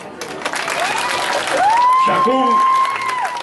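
A village music festival crowd applauds a band, steady clapping and some cheering running beneath someone talking over a microphone, with a whistle-like tone sliding through the middle.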